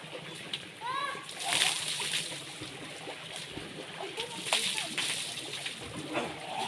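Water splashes and sloshes steadily as someone bathes in cold natural spring water at a mountain falls, with voices and lively outdoor chatter mixed in throughout.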